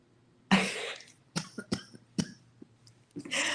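A person coughs several times in short, sharp bursts, close to the microphone, with brief pauses between coughs and no speech.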